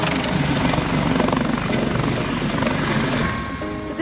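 Helicopter during a sightseeing ride over Port Blair, heard from inside the cabin as a loud, steady rotor and engine roar with a rhythmic blade thump throughout, easing slightly near the end.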